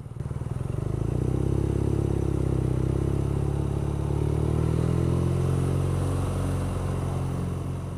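A 2014 BMW R nineT motorcycle filters through traffic, its engine droning steadily and loudly with wind rush, the tone rising and falling gently as it moves along.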